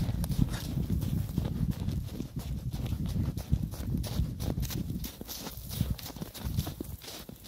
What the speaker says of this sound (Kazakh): Жылқы шаршады ғой деймін, әбден терлетіп. Жүрген басын жібере салып өзі кетіп барады үйге.